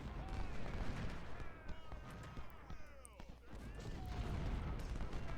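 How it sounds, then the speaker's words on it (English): Cannon fire in the Ultimate General: Civil War video game at the Fredericksburg battle, with dull booms and rolling artillery rumble scattered beneath steady battlefield noise and voices. "there's clearly cannon coming down"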